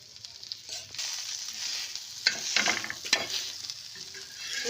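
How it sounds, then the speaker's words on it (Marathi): Oil sizzles and crackles in a pan on a wood-fired clay stove as soybean curry is started, a close, steady fry with sharper spits and stirring scrapes midway. "हे बघा आजी तेल टाकू राहिले"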